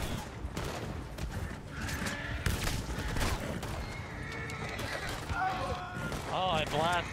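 Gunfire rings out in a Red Dead Online western shootout, sharp shots mixed into loud game action, with horses neighing and whinnying and hooves clattering amid the chaos.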